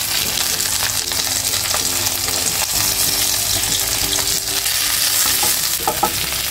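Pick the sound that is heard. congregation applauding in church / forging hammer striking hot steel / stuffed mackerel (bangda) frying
stuffed mackerel (bangda) frying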